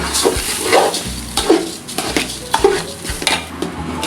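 A utensil repeatedly scraping and stirring soaked rice being dry-roasted in a pan in a steady rhythm, with light sizzling underneath.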